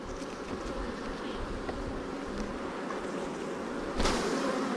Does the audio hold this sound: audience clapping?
no